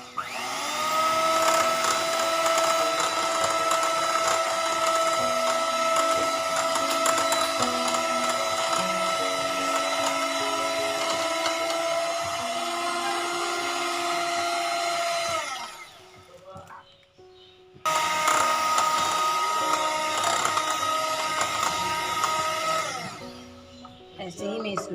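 An electric beater mixing vanilla cake batter, a steady motor whine held for about fifteen seconds, then a short stop before it starts again.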